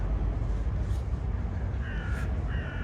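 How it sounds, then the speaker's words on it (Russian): Crows caw in autumn Belgrade along the waterfront near Kalemegdan Fortress, two or three harsh calls at moderate distance over a steady low rumble of city ambience. "Одни вороны кричат."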